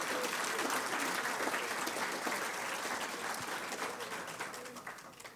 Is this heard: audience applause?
yes